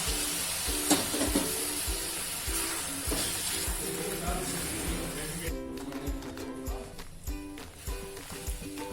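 Carrots simmering in full-fat milk for carrot halwa, a continuous bubbling sizzle with rhythmic stirring scrapes and soft spoon knocks against the pan throughout.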